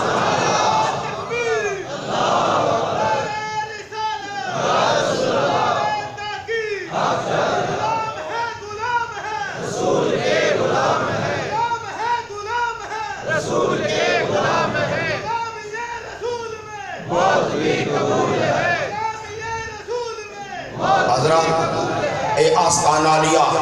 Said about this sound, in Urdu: تو مصطفیٰ دے دنیا تے نعرے مارو